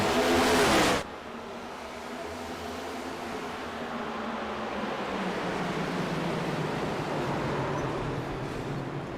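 Race cars at Richmond taking the green flag, a sustained roar of many engines building slightly after a sudden loud burst at the start, distant and droning with no talk.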